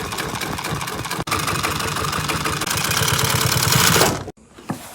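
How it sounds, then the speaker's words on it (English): A sewing machine top stitches an upholstery panel with piping, a fast even mechanical chatter running steadily and close for about four seconds before stopping abruptly. "And I'm gonna top stitch."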